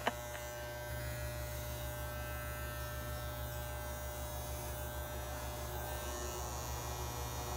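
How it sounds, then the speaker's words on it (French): An electric razor shaves hair on a head, starting with a click and then buzzing steadily and close for several seconds at an even level. "Faites attention à ne pas me raser les sourcils."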